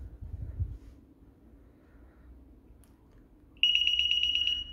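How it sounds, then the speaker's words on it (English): DSC alarm panel gives one loud, sharp electronic beep lasting about a second after quiet room noise, signalling that its test signal has been sent. "it'll beep to let you know when it is done sending that test signal and that everything's good"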